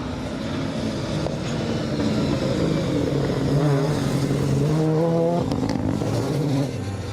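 Mitsubishi Lancer Evo 9 rally car with orange side highlights on a circuit rally stage, engine roaring steadily nearby and rising through the revs, with a couple of sharp shifts and rasping exhaust toward the end.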